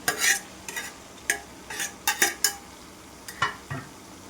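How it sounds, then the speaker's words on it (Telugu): A spoon stirring brinjal and tomato curry in a pan, with about ten separate close scraping strokes against the pan and a soft sizzle under them. "దీని అంతటి కూడా ఒకసారి మిక్స్ చేస్తున్నాను."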